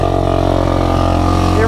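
An ATV or dirt bike engine runs at a steady, slightly high idle, a loud, close, continuous drone with an even throb and no revving.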